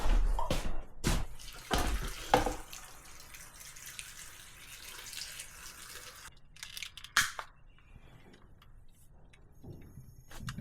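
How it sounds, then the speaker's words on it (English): Tap water runs into a large soup pot of about 10 quarts, a steady broadband hiss with a few louder clunks and splashes early on, easing off toward the end. "So we need to get water in this."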